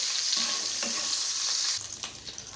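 Garlic sautés in a hot pan for a ginisang upo dish, a loud steady sizzle and hiss that drops partway as the garlic is stirred, with faint scraping; no one talks.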